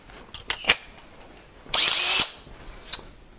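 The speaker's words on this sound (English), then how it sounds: "Put it in the handy drill." A cordless drill whirs in a few short bursts, then a longer half-second run and one more quick blip, close up in a quiet room.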